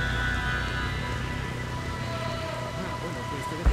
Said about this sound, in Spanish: ¿Qué haces ahí fuera con esta lluvia?